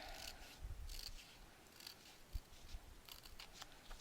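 Scissors cutting through paper or cardstock for a craft album: a few soft, close snips and slicing rustles, quiet and alone with no talk.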